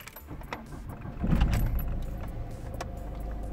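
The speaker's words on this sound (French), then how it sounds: "Je vais démarrer la voiture." Keys jingle, then a Peugeot-Citroën car engine cranks and catches, settling into a low steady idle close by, during a diagnostic session.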